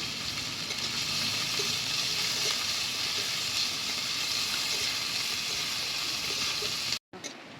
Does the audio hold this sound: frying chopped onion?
yes